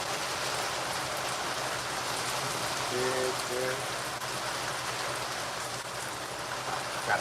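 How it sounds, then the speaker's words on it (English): Hard rain falls steadily outside, a constant dense hiss of drops on surfaces at moderate level, with a brief faint tonal sound partway through. "It's raining hard outside."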